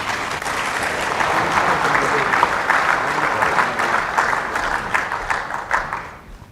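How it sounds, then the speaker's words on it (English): A school event audience applauds steadily for several seconds, a dense wash of clapping that tapers off at the end. "Big round of applause for these two young ladies."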